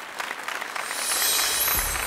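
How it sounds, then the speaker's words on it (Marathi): Audience applause at a televised program honoring a woman entrepreneur, fairly faint clapping that swells slightly toward the end. "जोरदार टाळ्या त्यांच्यासाठी।"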